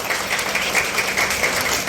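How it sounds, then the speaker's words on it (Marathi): Audience clapping for a tour company team at an awards event, a steady dense wash of many hands at moderate level with no pauses, faint voices mixed underneath. "जोरदार टाळ्या झाल्या पाहिजे."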